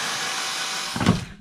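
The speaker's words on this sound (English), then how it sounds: "all right, a couple more screws." A power drill drives screws, a steady close whine that bogs down briefly with a grinding burst near the end before trailing off.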